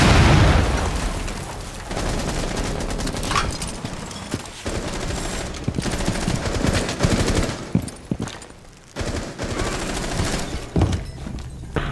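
Rapid bursts of automatic gunfire and booming impacts ring out in Rainbow Six Siege, loud and sustained with brief gaps, over a faint game soundtrack.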